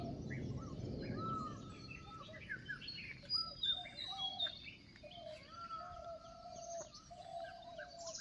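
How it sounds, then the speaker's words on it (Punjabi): Peacocks call in repeated drawn-out cries amid other chirping birds, heard at a distance over a soft, steady rush of rain, with distant thunder-laden cloudy weather. "ਮੋਰ ਕੁਗੀਆਂ"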